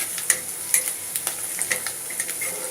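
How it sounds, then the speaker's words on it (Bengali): Chopped onions stirred and fried in a generous amount of oil over medium heat, a steady close sizzle punctuated by sharp spatula scrapes and clinks at an irregular rhythm. "একটু বেশি তেলের মধ্যে নাড়াচাড়া করলাম"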